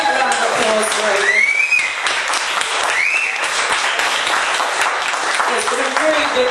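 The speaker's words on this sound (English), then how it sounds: "Big round of applause for Aidan." Applause from a crowd at an evening event, a continuous clapping wash at steady level with people talking and calling out over it throughout.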